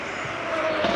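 A Pagani Huayra hypercar cruising slowly on the Nürburgring while warming its tyres, a steady engine drone that swells slightly as it passes, heard for about a second.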